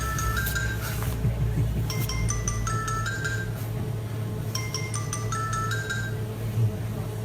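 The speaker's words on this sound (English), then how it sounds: "Oh, and there goes the phone." A phone rings in a home kitchen where a leg of lamb is being carved, its bright repeating electronic ringtone bursts sounding twice over a steady low background hum.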